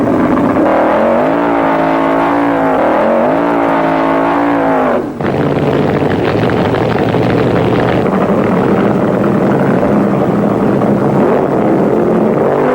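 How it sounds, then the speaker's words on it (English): Funny cars at a 1974 drag race semifinal, including the Chi-Town Hustler and a Mustang, do burnouts with a loud, continuous high-revving engine roar that rises and wavers, cuts briefly, then resumes as a dense blaring drone. "Cheryl Greer and Ron Colson in the Chi-Town Hustler make up the first semifinal pairing for funny cars. The burnouts are wild."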